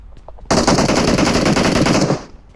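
PUBG Mobile gunfire rattles in one sustained, loud automatic burst of rapid shots lasting about one and a half seconds, then cuts off, with a faint voice barely audible before it.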